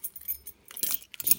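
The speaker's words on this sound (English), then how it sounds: "Keys," Keys on a keyring jangle close by in a few quick bright metallic clinks and rattles, with short gaps between the shakes.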